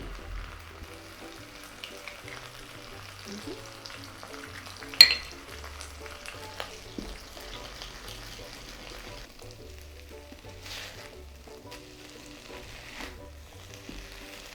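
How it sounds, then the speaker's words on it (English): An egg frying in oil in a wok for pineapple fried rice, a low steady sizzle with occasional stirring scrapes and one sharp clatter partway through. "let's add a bit of oil because we are going to add an egg"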